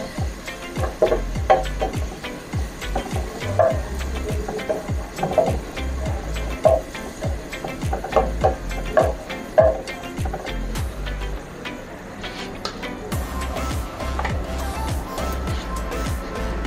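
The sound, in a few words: chicken frying in a pan with Sprite and oyster sauce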